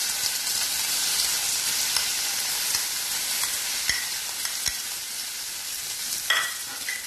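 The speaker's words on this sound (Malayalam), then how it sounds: "ചട്ടി ചൂടായി, അതിലേക്ക് നമ്മൾ കടുകിട്ട് പൊട്ടിച്ചിട്ടുണ്ട്." Mustard seeds crackle and pop in a hot pan alongside ground chicken chutney, giving a steady dense sizzle with scattered sharp pops. It is close and continuous, and no one speaks.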